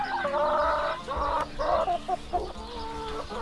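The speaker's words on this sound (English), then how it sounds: "in each of these separate pens, we have a different breed of chickens" Chickens clucking close by, a steady run of throaty, warbling calls with short pauses in between.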